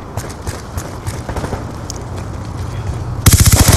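Gunfire in the video game Call of Duty Black Ops 2: scattered shots and game noise, then a loud, rapid automatic burst near the end.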